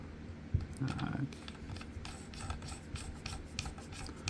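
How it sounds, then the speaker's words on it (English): Small screws are turned down into the blade retention of a Korbanth LS6 Stunt lightsaber hilt, giving close, faint scraping and rasping of metal under steady background noise, with a single sharp click early on. "screw that down. And now you don't see your blade retention screws anymore."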